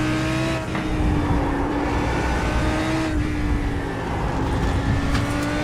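Super Trofeo race car engine droning steadily in a racing game, with a sustained mid-pitched tone, small dips in pitch, and tyre and rumble noise as it runs onto grass; continuous and fairly loud with no talk.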